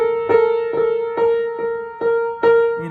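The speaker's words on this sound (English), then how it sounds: "there's this thing when you're tuning guitar, it sounds like this" Guitar strings ring in repeated plucked notes, about six in a row at an even pace, the pitch sounding slightly rough and beating before it settles while being tuned. Close and clear with no talking.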